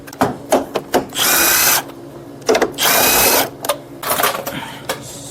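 A power tool, likely a drill or impact driver, whirs in several short bursts and two longer runs while removing 10mm bolts from the fender of a 2011-2015 Lincoln MKX, close and loud with brief pauses between.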